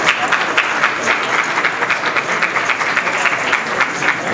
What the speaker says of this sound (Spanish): Aplausos en la sala